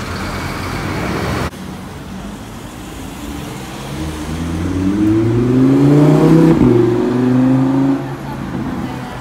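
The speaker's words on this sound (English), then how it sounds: "we've got this 22 bus getting in the way now" A London number 22 bus rumbling past on a city street, its engine rising and swelling as it nears and then fading, with traffic noise around it.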